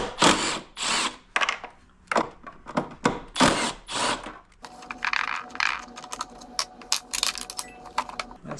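A power drill backing screws out of the body cover box on a Honda Metropolitan scooter, giving repeated short close whirring bursts with small clinks and rattles of hardware between them, with no voices.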